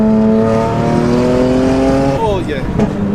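Tuned BMW 335i under load with a loud, steady engine drone that drops off into a lift-off exhaust burble near the end, with voices talking nearby.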